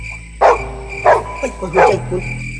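A dog barks three loud, close, sharp times at roughly even intervals, with a low hum in the background.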